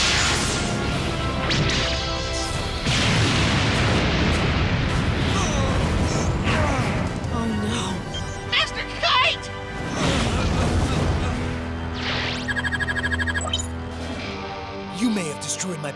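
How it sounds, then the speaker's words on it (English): An anime card duel reaches Excalibur's Double Shock Sword Slash attack. Loud whooshes, metallic slashes, crashes and booming impacts follow in a dense, continuous stream, with dramatic music and voices shouting over the effects. "Go, Excalibur! Attack with Double Shock Sword Slash!"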